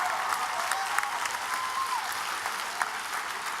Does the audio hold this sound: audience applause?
yes